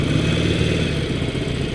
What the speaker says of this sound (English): Iron 883 from Harley Davidson